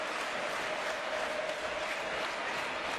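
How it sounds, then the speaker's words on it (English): Basketball fans cheering in an arena during a Champions League game between Hapoel Jerusalem and Teksüt Bandirma: a steady wash of crowd noise and applause, fairly distant, continuous throughout. "These fans are getting into it now."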